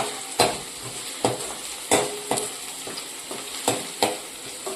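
Tempered rice cooking in a pan on a village stove, stirred in a regular rhythm of scraping strokes about once a second over a continuous close frying sizzle.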